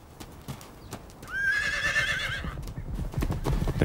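Horses in an ambient scene: a clear whinny rises and wavers for about a second mid-clip, with hooves clip-clopping faintly through the rest of the clip.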